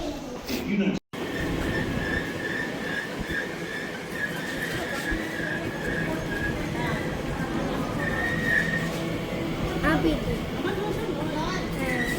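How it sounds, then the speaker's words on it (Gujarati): A train rumbles and screeches as it pulls in, with a sustained metallic squeal and busy station noise, voices murmuring underneath. "આપણી ટ્રેન આવી ગઈ છે."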